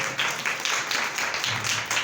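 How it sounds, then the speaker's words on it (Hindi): Applause from a congregation fills a church service hall, a brief burst of dense, steady clapping at moderate volume with no talking over it. "जोरदार तालियां खुदा उनके लिए बजा दें"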